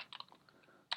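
Someone types on a computer keyboard in a quick burst of close, light key clicks, ending in a louder clack, with no talking.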